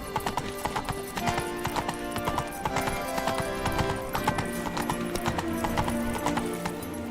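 Roach the horse gallops in The Witcher 3: Wild Hunt, with fast, steady hoofbeats close by over tonal background music and a hint of whinnying.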